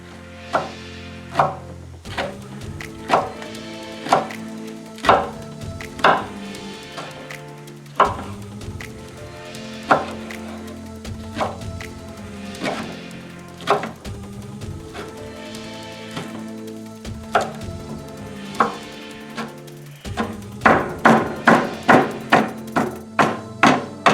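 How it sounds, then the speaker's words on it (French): Rapid knife chops on a cutting board as spinach is crushed toward a purée, close and crisp, coming in uneven bursts of sharp taps that speed into a dense flurry near the end, with no talking. "Je vais concasser les épinards pour que ça fasse vraiment purée"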